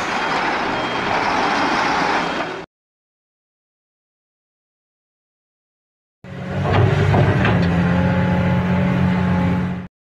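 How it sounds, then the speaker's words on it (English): A concrete mixer truck's diesel engine rumbles loud and close in two separate stretches with a silent gap between them. "Concrete mixer truck."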